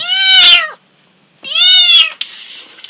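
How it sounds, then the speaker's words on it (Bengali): A pet cat kept indoors during rainy weather gives two loud, close, drawn-out meows separated by a short pause, followed by a faint scuffing noise. "আর যে বিলাই শব্দ শুনতেছেন এখানে আমাদের পালা বিড়াল আছে"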